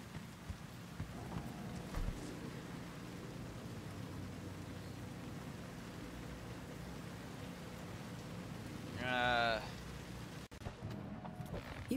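Steady, faint rain hisses across a street scene in the video game Cyberpunk 2077. A short vocal fragment rises briefly near the end.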